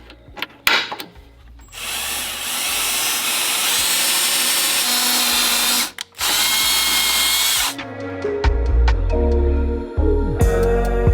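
A power drill with a small bit bores into soft cast aluminum for a Mazdaspeed3 motor mount, two loud sustained whirring runs close up, then clicking and clattering of tools.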